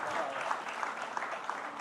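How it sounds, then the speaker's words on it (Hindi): Steady applause from an audience at a poetry conversation event in India, a dense wash of clapping that holds at an even level throughout. "इस सन्नाटे को तोड़ने की ज़रूरत है। जोरदार तालियां"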